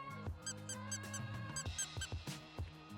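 Repeated short squeaks from a dog's squeaky toy, pressed in quick bursts close by, some squeaks slightly longer, during puppy stay training.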